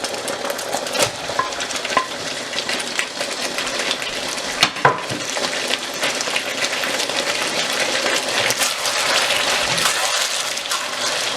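Fried chicken pieces for homemade Chicken 65 tossed into sauce in a pan and stirred, giving a steady close sizzle with scraping and clinks of a spoon against the pan, no talking.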